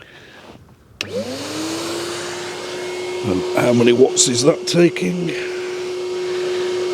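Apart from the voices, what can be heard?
Henry vacuum cleaner running, powered from MG4 car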